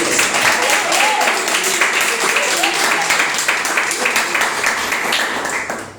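A church congregation claps during a sermon on faith, a loud, continuous wash of clapping and cheering with voices mixed in, holding steady before easing off at the very end.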